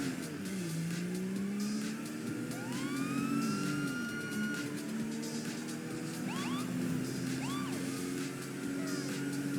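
A police car siren wails and sweeps in GTA V over a revving car engine, with rising and falling tones and a brief whoop near the end, fairly close and continuous.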